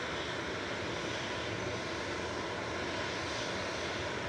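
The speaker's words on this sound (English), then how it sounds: "EZPD is going to Lyon with flight 2119 A320 Classic." An easyJet Airbus A320 Classic bound for Lyon from Manchester Airport gives off a steady, broad engine roar that holds even and unbroken throughout, with no talking.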